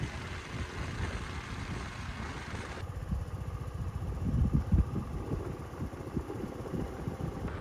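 A motorcycle engine runs steadily and close, rumbling as it sets off down a road, with a low, even drone and some rising throttle roughness partway through.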